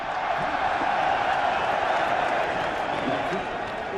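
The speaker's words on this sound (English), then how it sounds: "once that happens you'll hear the hubbub of the crowd, a little crescendo" Racecourse crowd at the Cheltenham Festival's Triumph Hurdle sends up a steady, distant hubbub and murmur as the runners turn toward the start, a dense wash of many voices with a commentator talking over it.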